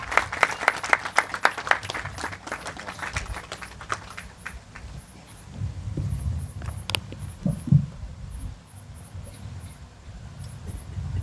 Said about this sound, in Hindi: उनको स्वागत करते समय सब तालियां बजाएं